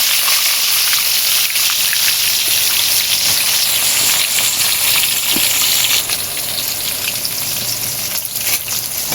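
Onions frying in hot oil with bay leaves, a steady loud sizzle and crackle close up, with occasional stirring clinks and no talking.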